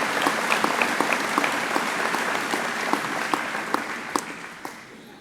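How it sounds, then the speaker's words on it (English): Audience at a school speech night clapping steadily in a full, dense wash of applause with sharp individual claps standing out, sustained for several seconds at moderate distance. "Let's give her a round of applause."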